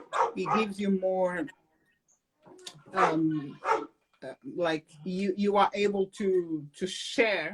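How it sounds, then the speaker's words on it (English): A dog barks intermittently in the background while two people hold a conversation, the barks faint and partly buried under the steady talking. "Sorry about my dog."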